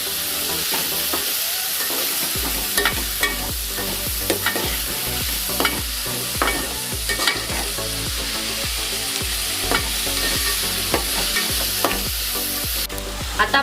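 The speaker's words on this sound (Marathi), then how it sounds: "छानपैकी परतवून घेऊयात आपण मिश्रण" A spice and tomato mixture for Maharashtrian baingan masala stirred and sautéed in a hot pan, a steady loud sizzle broken by repeated scraping strokes of the spoon, with no talking.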